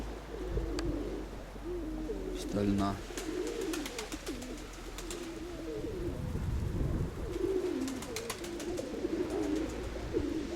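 Pigeons coo repeatedly in a loft, low rolling calls overlapping one another, with someone speaking briefly and some rustling and tapping nearby.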